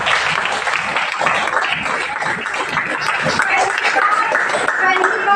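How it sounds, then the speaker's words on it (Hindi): A meeting audience claps loudly and steadily in a dense, continuous burst of applause, with voices mixed in underneath throughout. "उनके लिए मैं सरकार तालियां चाहूंगी कि उनके लिए जबरदस्त तालियां।"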